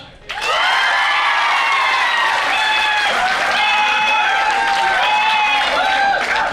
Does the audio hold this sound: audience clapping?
yes